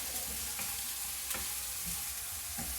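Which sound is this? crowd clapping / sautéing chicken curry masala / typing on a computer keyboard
sautéing chicken curry masala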